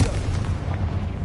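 A Confringo fire spell bursting in the Hogwarts Legacy video game, a dense low rumbling blast that rolls on steadily for the whole moment with no talk over it.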